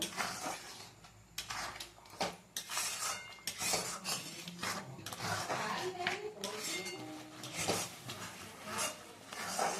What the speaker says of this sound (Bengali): এটা আমি এখন কিছুক্ষণ নাড়বো।